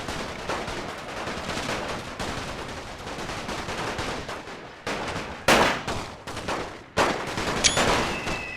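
Machine gun fire and rifle volleys in a WW1 Total War mod battle on the Italian Front, a continuous crackle of rapid shots with louder nearby bursts toward the end, no talk.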